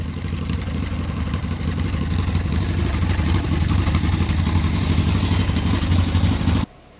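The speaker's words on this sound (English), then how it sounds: "Just got back from a ride on this classic 1971 Harley Davidson Sportster." A 1971 Harley-Davidson XLCH Sportster 1000 motorcycle engine runs steadily and loud up close, a throaty low rumble with a clattering mechanical edge, holding a fairly even idle for several seconds before cutting off abruptly near the end.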